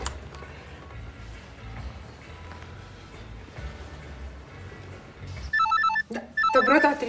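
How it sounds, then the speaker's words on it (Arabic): A telephone rings in trilling bursts near the end, after a stretch of quiet room noise and low murmuring. "طب رد على التليفون ده وافتح السبيكر."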